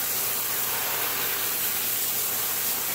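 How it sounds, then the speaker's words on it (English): Water spray hissing steadily as a hose washes dirt off cube rocks, a continuous broadband rush close by with no voices. "Spray this sucker down."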